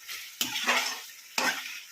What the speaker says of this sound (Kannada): ಫ್ರೈ ಮಾಡ್ತಾಯಿದ್ದೀನಿ